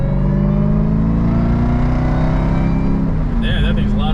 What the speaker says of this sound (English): I thought you wouldn't be able to hear the supercharger because of the muffler.